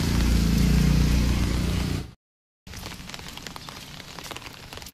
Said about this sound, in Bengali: দেখাই বৃষ্টি কেমন